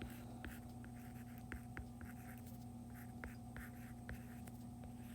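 A pencil scratches across paper in short, intermittent strokes, faint and close against a steady low electrical hum, with no voices.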